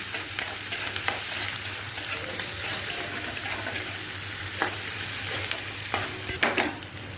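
Onions fry in a pan for egg curry, giving a steady close sizzle and hiss while a spoon stirs them with repeated scraping strokes. No voices are heard.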